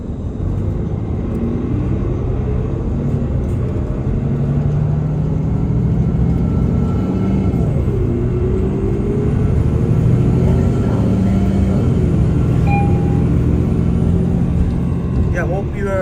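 Steady low rumble of a Toronto city bus riding the 19 Bay route northbound, detouring along Yonge Street between King and Yonge, with engine drone and road noise throughout and brief tonal squeals near the end.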